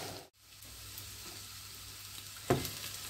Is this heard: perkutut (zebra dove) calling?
no